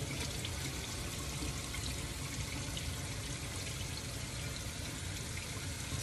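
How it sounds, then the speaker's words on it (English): Running water pours steadily and closely as hair is wetted before an apple cider vinegar scrub shampoo, a continuous unbroken rush with no talking. "So I'm gonna get my hair a little wet."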